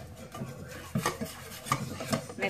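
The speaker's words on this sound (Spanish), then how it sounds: "Mezclamos muy bien." Chocolate being stirred into warm, not hot, water with a utensil in a bowl, giving soft scraping and rubbing strokes in an uneven rhythm, close and fairly quiet, with no talking.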